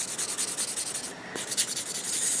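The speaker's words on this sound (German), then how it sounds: "Also ich nehme erst diese etwas rauere Seite und gehe da ganz normal wie mit einer Feile drüber." Fingernail buffed with the rough side of a polishing block, worked like a file, giving a quick, rhythmic scratchy rubbing in short strokes with a brief pause, close and fairly quiet.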